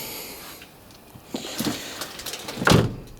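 A Mercedes S-Class W220 car door swinging shut, a faint rustle and creak building to one solid thud near the end, close by.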